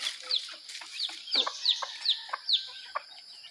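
A hen about to lay eggs clucks close by in a quick series of about eight short, sharp notes, repeated at a fairly even pace, with faint fowl sounds in the background.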